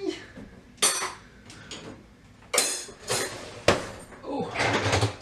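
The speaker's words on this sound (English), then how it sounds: "Come and do some dishes with me." Dishes are washed by hand at a kitchen sink at Christmas time, with sharp clinks and clatters of pots, plates and cutlery arriving in irregular bursts over running water, close up.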